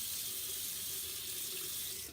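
Vegan makeup brushes rinsed under a running bathroom tap, giving a steady, close hiss of flowing water with no talking.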